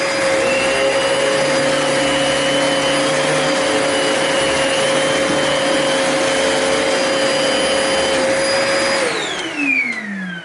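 A Kenmore 81214 200 Series bagged canister vacuum with power head runs at a loud, steady whine and drone, then winds down near the end as it is switched off.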